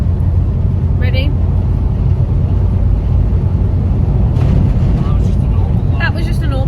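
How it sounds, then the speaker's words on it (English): A lorry rushes past a campervan on the Nullarbor highway, a loud broadband roar with a brief whoosh as it goes by, over steady road rumble while people talk throughout. "That was just a normal lorry."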